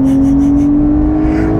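Porsche 992 Carrera 4S twin-turbo engine holding a loud, steady high-rpm drone near its 8000 rpm limit, heard from inside the car with a smooth continuous tone and no talk.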